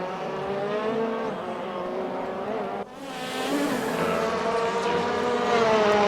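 A 2015 Citroen race car in the RaceRoom video game, its engine a steady high buzzing drone that briefly drops at a gear change, then climbs again under acceleration, with no talking.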